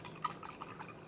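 A paintbrush swishes through a bowl of water, giving a few soft, quiet splashes and drips over about a second, heard close with no talk.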